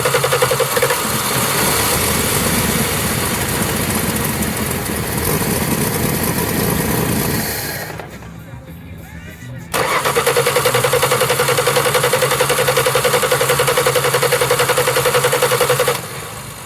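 A 1962 Plymouth Valiant barn find cranks steadily with a mid-pitched engine drone, goes briefly quiet, then the carbureted engine catches and runs loud and even, idling close by without any talk.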